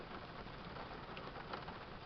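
Steady rain falls outside on a wet day, a soft continuous hiss holding even and fairly faint throughout with no voices over it.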